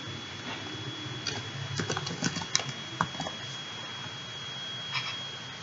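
Someone types a short word on a computer keyboard in a quick burst of close key clicks, then a pause and a final few taps.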